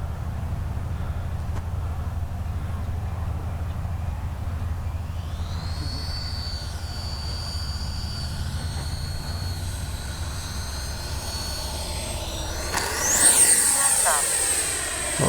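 HobbyKing Viper 64 RC jet passing overhead, its turbine whine rising and sweeping in pitch as it approaches and swells louder near the end, over a steady outdoor background.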